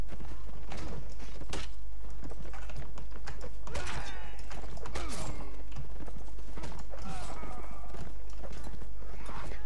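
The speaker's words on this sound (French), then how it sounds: "Ils ont vraiment des sacrés chevaux." Horses gallop in the medieval combat game Mount and Blade Warband, a run of quick hoofbeat clatters mixed with game sound effects and a voice talking over them.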